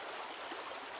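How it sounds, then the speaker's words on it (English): Creek water flowing steadily close by outdoors, a continuous broadband rushing and burbling with no break and no voices. "here's the creek behind me"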